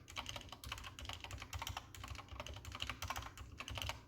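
Rapid, continuous clacking of keys on an Epomaker GK61X mechanical keyboard, including stabilized keys, close and crisp, with uneven rhythm and occasional heavier thocks.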